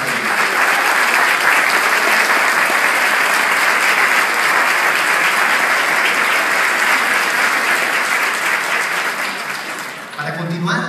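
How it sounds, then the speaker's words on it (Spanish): Sustained audience applause for actors Maritza Rodríguez and Gabriel Porras at a Telemundo Internacional screening event, a steady dense wash of clapping from a large crowd that dips briefly near the end. "Por favor, un aplauso para ellos."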